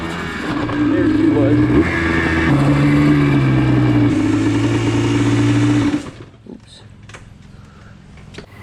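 A Yamaha Blaster ATV engine revving hard while climbing a hill, a loud close buzzing two-stroke roar that rises in pitch through gear changes for about six seconds, then cuts off abruptly; someone speaks briefly near the end.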